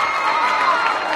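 Crowd noise in a high school boys' basketball gym, a dense, continuous roar of clapping and voices filling the space for just over a second.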